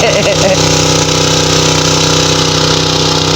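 A steady engine idles continuously at close range, a constant low mechanical drone with a faint voice briefly over it at the start.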